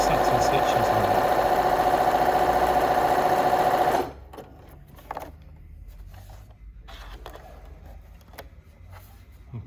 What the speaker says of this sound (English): One of the things that you can tell a machine that's got great stitch quality is what the satin stitches